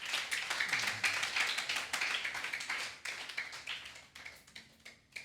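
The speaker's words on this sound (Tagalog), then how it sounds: "Pumalakpak po yung mga disipulo ni Kristo." A congregation at a midweek church service claps in quick, uneven bursts of many hands, loud and close, fading and picking up again over several seconds.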